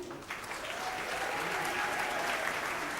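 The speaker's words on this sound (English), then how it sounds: "Ladies and gentlemen, a round of applause once again" An audience applauds a round for Shah Rukh Khan at a ceremony where he receives the Chevalier de la Légion d'Honneur; steady, dense clapping fills the room throughout, with no talking.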